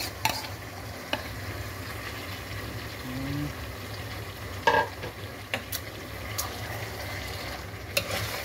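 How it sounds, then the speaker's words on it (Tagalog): Squid being sautéed in a pan for adobo, a steady low sizzle with occasional spatula scrapes and clinks against the pan, one louder burst midway, no talk. "Ginigisa na. Yan po. Nalagay na yung pusit."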